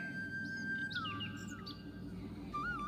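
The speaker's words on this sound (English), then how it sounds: "This is a gull." A gull calls with clear whistled notes, one long steady tone that bends downward, then a brief rising call near the end, faint against a steady low background hum.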